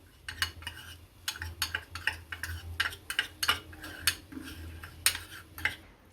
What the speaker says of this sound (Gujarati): મીઠું નાખીશું અને ચાટ મસાલો નાખીશું. આને ભેળવી નાખીશું.